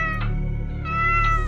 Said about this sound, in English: apparently that cat can't sleep either